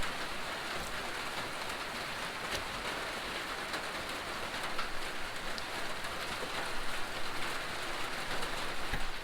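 Steady rain drums on a tin roof over a small log cabin, a dense, continuous patter that swells slightly toward the end, with no voices.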